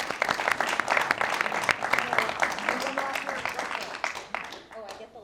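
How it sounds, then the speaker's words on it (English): Applause for panelists at a fireside chat, a round of clapping from the audience that swells then thins out, with a voice talking over it near the end. "let's give our panelists a round of applause as well"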